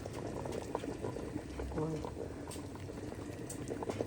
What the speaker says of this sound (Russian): картошка у меня кипит